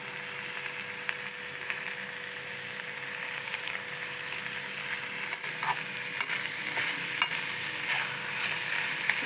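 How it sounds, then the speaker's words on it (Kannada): Cluster beans curry fries in a pan on a gas stove with a constant bright sizzle, while a spoon stirs and scrapes in scattered light clicks, without any voices. "ಈಗ ಚೌಳಿಕಾಯಿನ ಇದ್ರಲ್ಲಿ ಹಾಕಬೇಕು ಹಾಕಿ ಚೆನ್ನಾಗಿ ಮಿಕ್ಸ್ ಮಾಡಬೇಕು"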